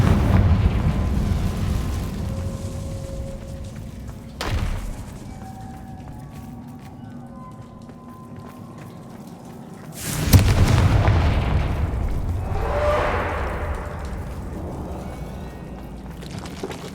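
Confringo spell blasts in the Hogwarts Legacy video game: two deep booming explosions, one short and one bigger with a rolling rumble afterward, over quieter game ambience and music.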